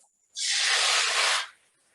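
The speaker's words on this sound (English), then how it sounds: "we're going to add the sweet and sour sauce that we made, and it's going to sizzle quite a bit" A loud, sudden hiss bursts up and holds for about a second before cutting off as sweet and sour sauce hits a very hot pan close by.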